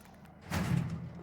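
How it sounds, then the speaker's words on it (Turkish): A door closes with a single muffled thud midway through in the survival video game 7 Days To Die, a brief low slam over faint background noise. "Şu kapıyı bir örtelim."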